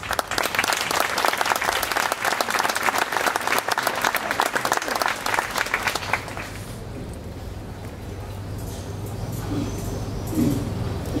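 Audience applause following a choir performance at a casino social club event: dense, loud clapping from a large crowd for about six seconds, then fading into a softer murmur of the room.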